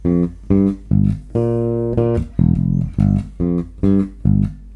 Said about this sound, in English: So we next have the open E to the F.